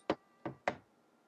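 Three close, sharp knocks on a door: a single knock, a short pause, then two quicker knocks in succession, crisp and isolated against near silence.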